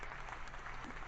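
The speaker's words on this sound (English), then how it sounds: "Can we do another round of applause for the neutrality?" Studio audience applause during a football talk show, a faint, dense wash of clapping held steady for a moment with no voices on top.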